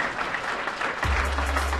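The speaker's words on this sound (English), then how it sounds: "Let's give them a big round of applause." Audience applause at a tribute dinner honoring mayors, a steady broadband wash of many hands clapping in a banquet hall, with a low rumble joining near the end.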